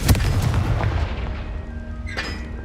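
A Confringo fire-blast spell goes off in Hogwarts Legacy: one loud, booming burst at the start that trails into a rumbling decay, with a second, fainter crackling burst near the end.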